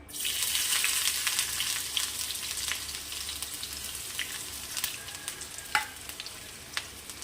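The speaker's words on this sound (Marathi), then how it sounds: "आता आपण यामध्ये थोडा कांदा ॲड करू बारीक बारीक असं चिरून घ्यायचं आहे" Finely chopped onion drops into a pan of hot oil for ambadi greens: a loud hiss at first, easing into softer continuous sizzling with occasional stirring clicks, and no voices.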